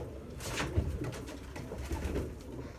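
Breeding pigeons coo softly in a loft, several low, rounded calls repeating in a gentle rhythm, faint and fairly close, with no talking.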